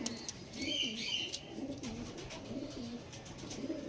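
Black Diamond pigeons cooing in a loft, repeated soft rolling coos over a dense background of birds, with faint chirps mixed in; no talking.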